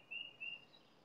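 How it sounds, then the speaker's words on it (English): Two faint, thin bird whistles, a cardinal's clear notes, sound in quick succession at a distance over quiet outdoor background, with no dove coos evident. "You hear cardinals and morning doves."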